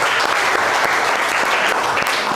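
A classroom of students applauds presenting groups: a loud, dense, continuous wash of many hands clapping fills the whole stretch.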